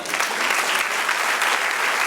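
A congregation claps strongly in a church, a thick, even roar of applause that holds steady from start to finish.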